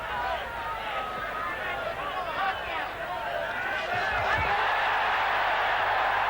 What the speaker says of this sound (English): Crowd cheering at the boxing skills of both.